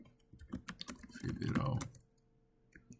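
A quick burst of keystrokes on a computer keyboard, close and moderately loud, with a denser flurry of clicks in the middle and a few scattered taps toward the end.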